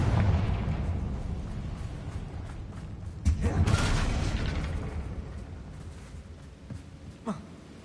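A Confringo fire spell blast in Hogwarts Legacy lands with a sharp crack and a rumbling burst near the middle, over steady ambient in-game background noise, followed by a couple of smaller pops.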